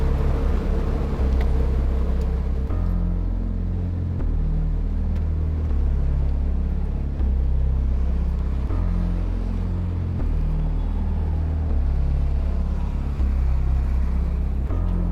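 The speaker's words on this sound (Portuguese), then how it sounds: "Mais um veículo recebe ordem de paragem." A car pulls up at a police traffic stop, its engine a loud, close, low rumble that rises and falls steadily in pitch for about fifteen seconds, with no talking.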